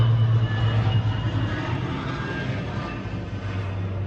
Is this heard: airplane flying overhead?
yes